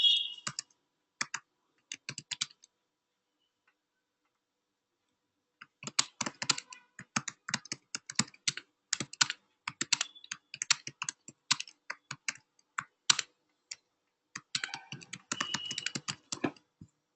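Rapid bursts of typing on a computer keyboard, close and clear, with a short pause after the first few keystrokes before steady irregular clicking resumes and continues to the end, no talking.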